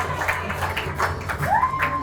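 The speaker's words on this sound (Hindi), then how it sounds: "अरुण सर के लिए भी जोरदार तालियां हो जाए भाई, क्लैपिंग कर दो" A live audience claps in a stage celebration event, a short burst of dense applause, fairly close and lively, with a voice briefly speaking over it.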